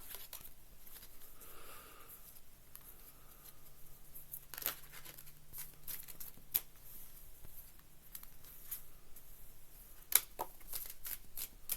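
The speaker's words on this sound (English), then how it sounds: "I'm throwing cards all over the place." Playing cards being thrown around, a scattering of light flicks, slaps and papery rustles spread irregularly over a quiet background, with one louder snap near the end and no talking.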